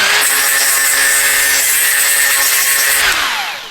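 A pneumatic air tool spins a 75mm Roloc disc on a 50mm backing pad, stripping factory coating during a diff brace install; a loud continuous high whine runs about three seconds, then spins down.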